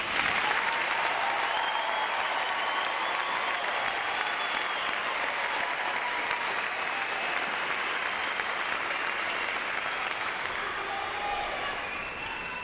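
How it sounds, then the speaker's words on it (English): Sustained applause from a large crowd at a U.S. Navy recruit training graduation ceremony, dense and steady clapping filling the space for the whole stretch, tapering slightly at the end. "Please join me in giving them and the 500 other outstanding graduating divisions here today a round of applause for their performance."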